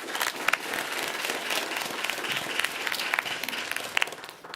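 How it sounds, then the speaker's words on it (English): Applause for awardees at a school board meeting, a dense, steady wash of many people clapping in a room, moderately distant and even, with a few sharper claps standing out. "Please join me in giving a big round of applause to all of our awardees and those we're recognizing"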